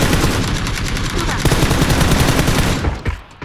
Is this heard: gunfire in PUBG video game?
yes